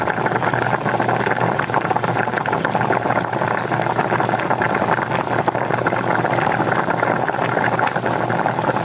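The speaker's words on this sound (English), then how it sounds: "the bubbling of boiling water" Water boils in a pot, a continuous close bubbling and churning wash that holds at an even level throughout without pauses.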